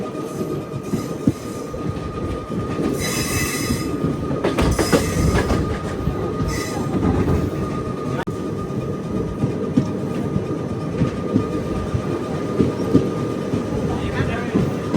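The Tirupati to Puri Express rolls along steadily at loud, close range inside the train, with a continuous rumble, rattling wheels and brief squeals, and scattered voices beneath the noise.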